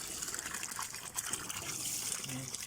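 Water is drawn from a green, algae-coated storage tank, a faint steady rush and trickle of flowing water running continuously with no voices.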